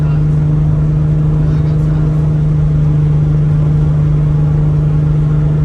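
A turbocharged Toyota Supra of 800 to 1000 horsepower with a large turbo and built TH400 transmission drones loudly from inside the cabin on a ride along, a steady heavy engine hum with a constant tone throughout.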